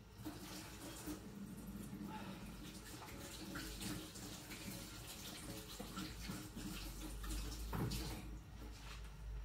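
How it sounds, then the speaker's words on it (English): Hands being washed under a running tap in a home kitchen while cooking fried eggs, a steady broadband water rush with splashing that holds through the whole stretch, fairly close, with a brief louder splash near the end. "you're not touching eggs again, so wash your hands"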